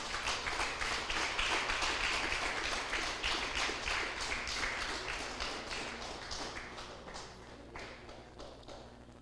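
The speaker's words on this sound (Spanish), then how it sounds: "Denle un fuerte aplauso al Rey, aleluya." A church congregation applauding, dense and sustained clapping that fades gradually toward the end.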